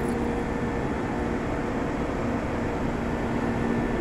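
Steady, noisy drone of an old walk-in chiller compressor machine with a mechanical problem, running continuously at close range with a faint hum and no talking.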